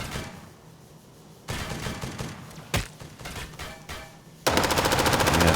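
Rapid automatic gunfire erupts in the survival shooter game Dysterra, first scattered bursts and a sharp shot, then a dense, loud, steady stream of machine-gun fire to the end.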